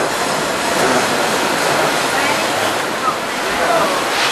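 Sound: log flume ride at Knott's Berry Farm with splashing water

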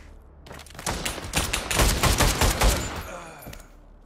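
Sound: gunshots in the video game Pavlov

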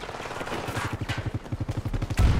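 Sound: gunfire from a weapon in Battlefield 2042 video game

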